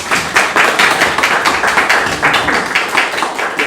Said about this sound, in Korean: 큰 박수로 맞아주십니다